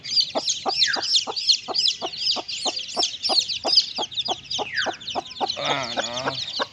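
Outdoors, a backyard mother hen gives a steady run of rhythmic clucks while her day-old chicks peep continuously at high pitch. Both are close and fairly loud.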